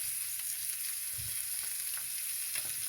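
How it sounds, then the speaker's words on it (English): Chicken pieces laid skin-side down in a hot pot of oil sizzle steadily and closely, a continuous bright frying hiss with faint crackles and no talking. "we putting the skin side down. The skin side gonna go down because we want that skin to be crispy."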